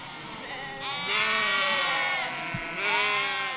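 Sheep out at pasture bleat repeatedly, several overlapping wavering calls close by, one swelling after another over quiet background.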